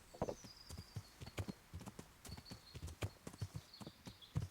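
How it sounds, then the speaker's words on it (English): Horse hooves clip-clopping at a steady walking rhythm in the medieval video game Kingdom Come: Deliverance, a distinct close series of hoof strikes with faint ambient tones behind. "The horse is a lot slower than the competitors' horses too."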